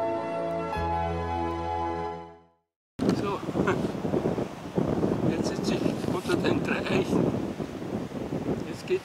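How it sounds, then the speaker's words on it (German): Strong wind gusting on a mountain hiking trail near St. Oswald, a loud rushing roar buffeting the microphone after a fading stretch of music, with a voice talking over it. "wieder ein kräftiger Wind"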